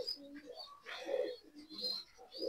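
A young pigeon makes soft coos and chirps in short bursts, faint and close, with a hint of background voice.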